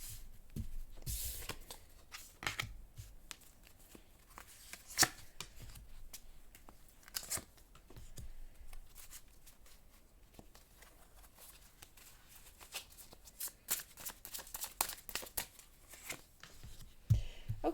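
Tarot cards are shuffled and riffled in a quiet room, with soft papery slaps and crisp flicks arriving in irregular bursts, close to the microphone, with no talking.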